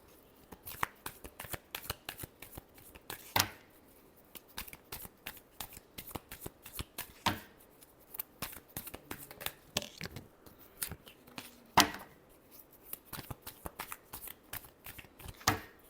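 A tarot deck is shuffled close by, with quick flurries of riffling, slapping card noise and brief pauses between the flurries.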